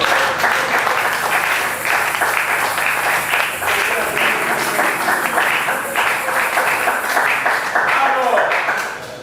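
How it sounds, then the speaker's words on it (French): A church congregation at a Sunday service applauds loudly and continuously, a dense, close wash of clapping that fades slightly at the end, with voices mixed in. "Est-ce qu'on peut acclamer fort le Seigneur?"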